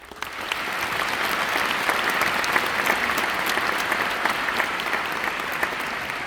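A large audience at the opening of the CHI 2025 conference claps steadily, sustained applause rising quickly and holding at an even level throughout.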